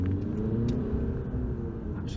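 Skoda Superb with a 200-horsepower engine accelerating hard on a narrow road, a sustained low engine roar and rumble heard from inside the car, steady and loud with no pauses.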